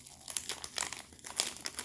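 A crinkly cookie package wrapper is peeled open by hand, giving soft, close plastic crackles in several short bursts with quiet gaps between them.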